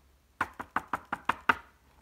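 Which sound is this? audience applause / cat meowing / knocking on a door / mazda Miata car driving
knocking on a door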